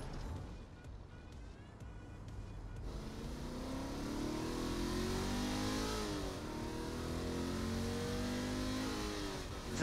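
A car engine revs up in the action video game Agents of Mayhem, starting faint and then swelling into a steady rising drone that holds at moderate level to the end, with no talk.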